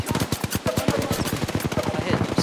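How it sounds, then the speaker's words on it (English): Rapid, dense gunfire in the Apex Legends video game, a run of loud sharp shots in quick succession with continuous background game noise, matching shotgun fire in a close firefight. "Shotgun's weak as fuck."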